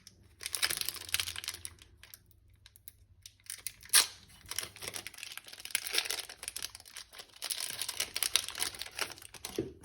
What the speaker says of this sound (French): il y a certains boosters, c'est une galère à ouvrir